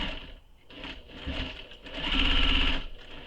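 A sewing machine stitches fabric for a satchel, its motor whirring in bursts that speed up and slow, loud and close with a steadier fast run near the end.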